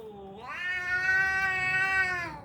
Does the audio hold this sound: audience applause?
no